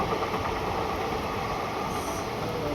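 A train passes by in the rain, giving a steady, loud, dense rumble and wash of noise with no breaks, heard continuously and up close with no voices.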